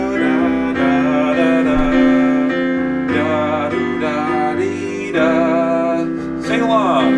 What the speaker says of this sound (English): I'll sit at the piano and play it